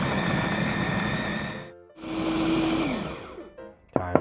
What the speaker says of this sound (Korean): 이렇게 해서 요 재료들을 갈아 줄게요